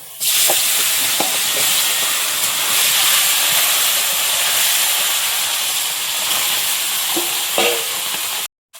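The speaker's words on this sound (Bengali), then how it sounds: "তেলটা গরম হয়ে গেছে মাছটা দিয়ে দাও" Fish sizzling in hot oil in a wok, a loud, steady broadband hiss filling the whole clip with a few brief spatters and crackles, then cutting off abruptly at the end.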